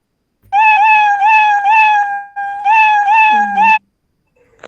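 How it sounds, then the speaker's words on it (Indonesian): A cat meow sound effect plays from a coding program, loud and close, as a run of drawn-out, wavering meows in two long bursts separated by a brief gap, then silence. "pasti nanti akan meong-meong terus ini."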